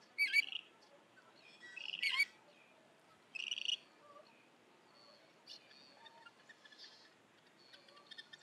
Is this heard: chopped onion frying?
no